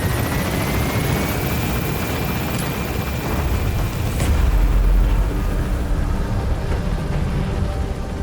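An extraction helicopter in Metal Gear Solid V lifts off with a loud, continuous rotor roar and engine whine that swells and deepens midway as it gains altitude, with no talking.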